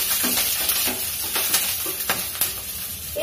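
Five slit green chilies dropped into hot oil with cumin, giving a loud continuous sizzle and crackle close up, with a utensil stirring and scraping through it.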